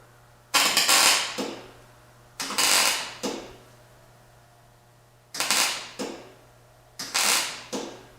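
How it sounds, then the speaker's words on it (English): A welder turned way down works on thin metal during a snowmobile track installation on an Arctic Cat 1000 H2, giving four short crackling, sizzling bursts, each about a second long, separated by quiet gaps. "But the welder is turned way down. Yeah, that metal's pretty thin."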